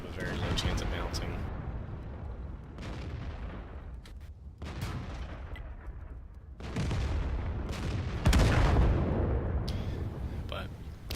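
A KV-5 tank's main gun firing in World of Tanks, several heavy booming shots spread across the stretch, each a sharp blast with a long rumbling decay, under a voice talking over the battle.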